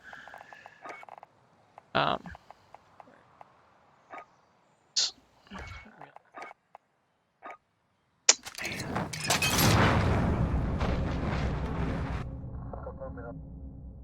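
A loud, broadband C4 explosion in Modern Warfare bursts out after a few short clicks and taps, then a rumbling roar lingers for several seconds before cutting off.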